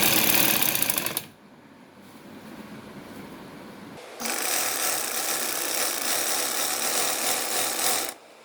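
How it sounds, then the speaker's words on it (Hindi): A sewing machine stitches the sleeve fitting of a frock in loud close bursts, a short run, a quieter lull, then a longer steady stretch of stitching that stops abruptly. "हमने बाजू की फिटिंग की सिलाई लगा देनी है।"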